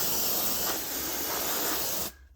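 A cold aerosol spray can held upside down lets out a loud, steady, close hiss that runs for about two seconds before cutting off abruptly, with no talking.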